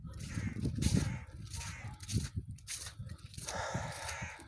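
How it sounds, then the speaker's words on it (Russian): Crows caw repeatedly from nearby outdoors at a roadside rubbish collection point, harsh calls in a loose irregular series with faint movement noise underneath. "Вороны кричат, вещей нет."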